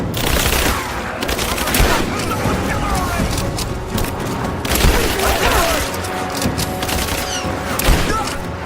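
Dense gunfire in the video game Rise of the Tomb Raider: rapid automatic bursts and heavy booms crackle almost nonstop, loud and close, with shouting voices mixed in.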